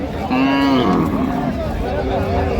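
A cow gives a loud, drawn-out moo, then a second lower, wavering moo, close by amid faint background murmur at a cattle market.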